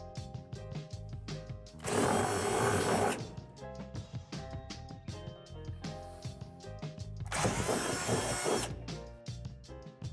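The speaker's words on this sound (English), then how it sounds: "two holes that we need to drill out from underneath the deck with a 3/8 drill bit" A power drill with a 3/8 inch bit whirs loudly in two bursts of about a second each, drilling holes under a swing set deck, separated by quieter clattering and tool handling.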